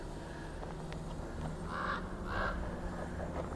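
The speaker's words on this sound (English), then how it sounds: "I hear you, crow." A crow caws twice in the distance, harsh calls standing out over quiet outdoor background noise.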